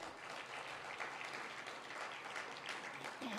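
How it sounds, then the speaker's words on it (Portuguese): A church congregation applauds in praise, a continuous, fairly soft patter of many hands clapping at a steady level, with faint voices underneath. "Aplauda ao Senhor."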